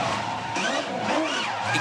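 A 2015 V8 Supercar rounds turn 8 at the Sydney 500, its engine note rising and falling in pitch as it is eased through the corner, loud and close with a whine of revs.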